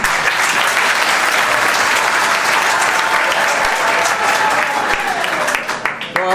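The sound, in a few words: students clapping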